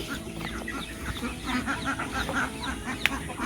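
Farmyard ducks quacking and chickens clucking after being fed, a busy overlapping chorus of birds with steady background noise.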